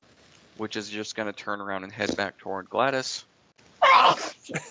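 A single sharp sneeze near the end, following a man's speech during a tabletop game session.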